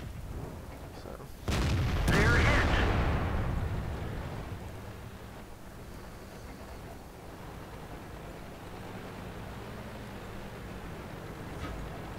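A heavy tank cannon fires once in a tank video game featuring the T28 Prototype and T29, a loud booming blast followed by a long rumbling decay over steady engine and battle ambience.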